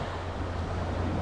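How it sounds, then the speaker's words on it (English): Choppy lake water laps and washes at night on Lake Superior at Duluth, Minnesota, a steady close rush mixed with wind buffeting the microphone. "The water is getting a little bit choppy right now"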